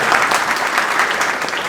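Audience applause welcoming a guest at a Merchant Navy guidance program at a defence academy, steady dense clapping from a crowd throughout, loud and continuous.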